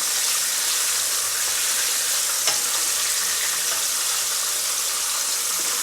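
Fish fillet frying in very hot oil, a steady loud hiss and crackle sustained throughout with one brief sharper pop midway, no voices.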